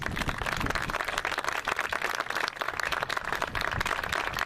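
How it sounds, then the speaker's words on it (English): A round of applause rises from the audience at an arts center groundbreaking ceremony, dense, close clapping from many hands that holds steady throughout, with no speech over it. "have a round of applause"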